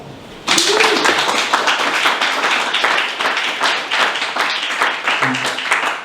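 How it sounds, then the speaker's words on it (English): A workshop audience breaks into a sudden, loud round of clapping at a Toastmasters leadership event. The applause is thick and sustained for several seconds, with a few faint voices mixed in. "Can we give them a round of applause?"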